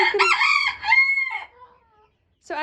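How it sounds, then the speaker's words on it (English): Chickens cluck and squawk close by in loud, harmonic bursts, a pause of near silence, then another cluck begins at the end. "these are the 5 smaller chickens that we have"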